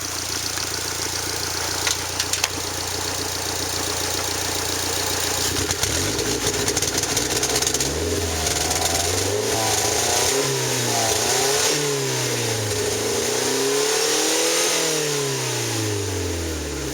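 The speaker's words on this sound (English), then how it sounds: "Sounds good. When you rev her up, you probably need some new plugs and wires." A Mercury Mystique 2.0 engine with a 5-speed and 143,593 miles, at a salvage yard, with a slight miss and hesitation: a steady idle first, then several rising and falling revs, close and loud, with no talking.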